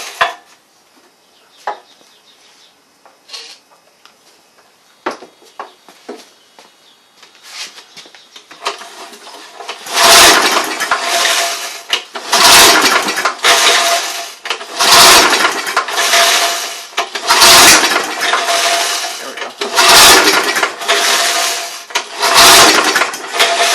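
A Briggs & Stratton small engine with no compression being pulled over, a run of repeated loud rough cranking bursts, each ending abruptly, close up after some quieter handling knocks and clatter.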